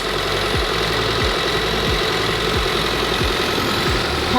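Rebuilt 2019 Kia Niro EV with a new gearbox running in reverse after crash repairs, giving a steady mechanical drone with a regular knocking pulse roughly every two-thirds of a second, close and loud with no talk.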